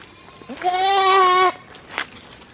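A single drawn-out goat bleat, loud and close, wavering for about a second on a farm, followed by a brief faint rustle and otherwise quiet background.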